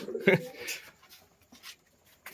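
Pigeons coo in a small loft, a soft throaty coo up close followed by faint fluttering and rustling, with someone speaking nearby.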